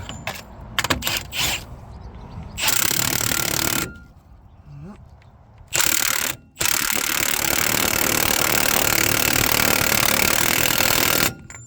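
An impact gun tightens a new drive shaft nut on a Renault Master horsebox in a workshop, giving several loud, rattling bursts: short stabs at first, then longer runs, ending in one sustained hammering stretch lasting about five seconds.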